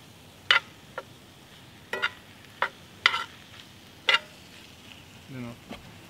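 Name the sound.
flour being stirred into a sizzling pan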